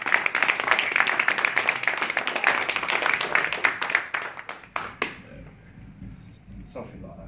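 An audience applauds, with dense, steady clapping that lasts about five seconds before thinning out to a few scattered claps.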